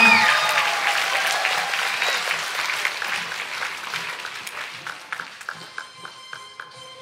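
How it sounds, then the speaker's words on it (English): An audience at a school talent show gives the judges a round of applause, loud and dense at first, then thinning to scattered individual claps as it fades. "Let's give them a better round of applause."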